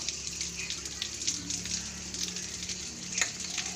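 Running tap water splashing steadily as a small child washes glasses, bowls and a baby bottle at a sink, with light clinks and drips over a continuous flow.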